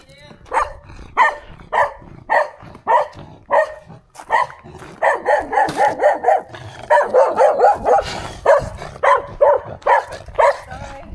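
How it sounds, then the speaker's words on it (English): A small dog barks in repeated sharp bursts throughout, close and loud, with a few whimpering yips mixed in, while a person speaks intermittently during a delivery stop in Randalstown, County Antrim. "This is a small dog."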